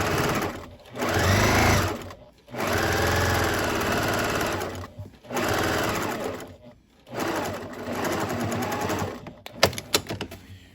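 A sewing machine stitches store-bought quilt fabric for an appliance cozy, running in four close, steady bursts of rapid mechanical whirring separated by short pauses.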